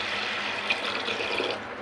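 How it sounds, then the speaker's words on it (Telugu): Water pours steadily into a pot of washed lentils being readied for boiling, a continuous bright splashing stream with no pause. "ఇప్పుడు దీనిలో తగినన్ని వాటర్ పోసుకొని పప్పును ఉడికించుకోవాలి"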